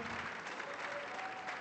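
Applause from an audience at the closing ceremony of the Carthage Film Festival, a brief, fairly distant patter of many hands clapping evenly.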